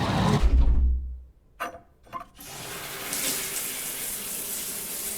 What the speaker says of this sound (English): Nice water animation. Refreshing shower.